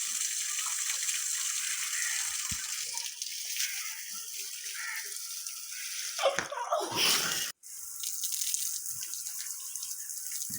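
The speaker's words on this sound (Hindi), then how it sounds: "अब मैं इनको पानी लगा रहा हूँ।" Fresh fruit, including lemons and pomegranates, is washed under running water in a village. A continuous splashing stream runs close by, broken by a brief pause before the water flows again.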